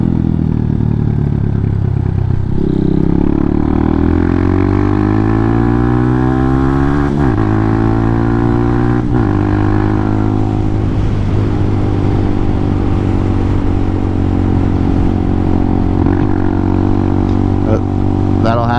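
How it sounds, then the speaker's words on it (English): A Hawk 250 motorcycle idling low at a red light: a loud, close, continuous engine rumble that dips, wavers and shifts pitch as it falters, running unevenly throughout with the rider talking over it. "First time stalling at a red light."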